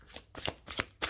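An oracle card deck being shuffled by hand: four quick, crisp bursts of cards flicking and sliding, close up with no other sound.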